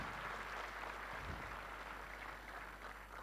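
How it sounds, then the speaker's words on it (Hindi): Crowd applause at an event after a host calls for a big round of clapping: a steady, dense wash of many hands clapping, fairly faint and distant, with no distinct voices. "एक बार जबरदस्त तालियां हो जाए"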